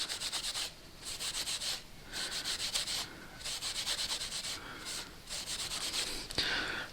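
Sanding an oiled laurel fretboard on an Epiphone Les Paul guitar, heard as rhythmic back-and-forth rasping strokes with short pauses between bursts, close and steady, with no voices.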